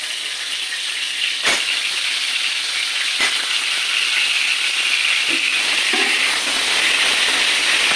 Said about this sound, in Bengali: এটা শুধু নুন দিয়েছি, শুধু নুন দিয়ে ভাজছি।